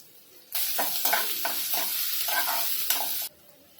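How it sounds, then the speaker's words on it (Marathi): Cumin, finely chopped ginger, garlic and green chili hit hot oil with a sudden loud sizzle that holds steady for nearly three seconds, crackling and spitting throughout, then cuts off abruptly. "इथे जिरा टाकणार आहोत हे बारीक केलेलं आलं लसूण मिरची पण टाकून घेऊया"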